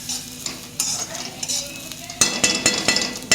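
Coriander and a spice masala being dry-roasted in a pan, with a utensil stirring and scraping in close, steady scrapes over a light sizzle and occasional clinks.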